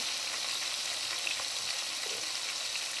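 Cumin, garlic, green chillies and tamarind frying in hot oil, a loud, steady, close hiss of sizzling throughout with faint scattered crackles.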